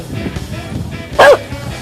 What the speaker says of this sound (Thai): หมาเห่าอย่างนี้ตัวอะไรคะหมา